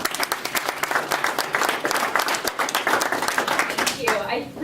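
A live audience claps steadily in warm applause welcoming two guest speakers at a mental health session, dense and sustained before fading near the end.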